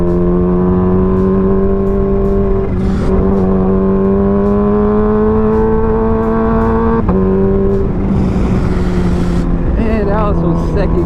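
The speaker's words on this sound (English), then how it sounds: "Very smooth auto blip." A Kawasaki Ninja H2 engine drones loud and close while accelerating, its pitch climbing steadily, with a few sharp breaks where the auto blip fires on quick gear changes before the revs rise again.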